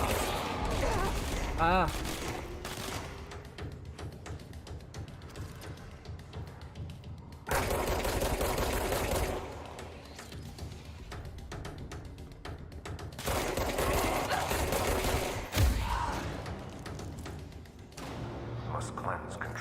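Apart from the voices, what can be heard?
gunfire from the video game Control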